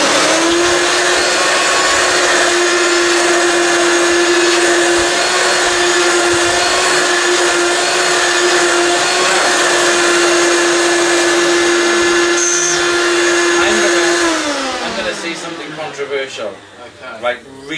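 A Hoover Turbomaster upright vacuum cleaner with a HEPA bag runs loud and steady with a constant motor whine, then powers down and winds off near the end.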